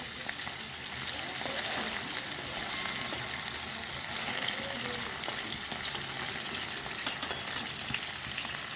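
Paneer fries in a pan with a steady, crackling sizzle, dense and continuous, with a few soft pops and scrapes.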